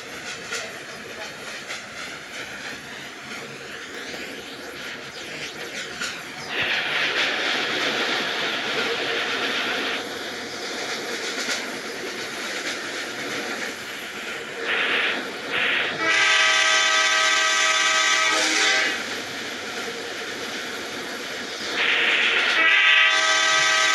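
A train in the mobile game Indian Bike Driving 3D rumbles along steadily while its horn blares several times in long, loud blasts, with the running noise continuing between them.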